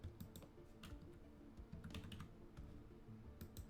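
Rapid clicking keystrokes on a computer keyboard as a code is typed in, a quiet, close run of uneven taps with short pauses between bursts.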